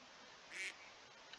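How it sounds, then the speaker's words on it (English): A single short duck quack rings out in the Minecraft video game, faint and distant over a soft steady background hiss, with no talking. "Keep hearing duck noises."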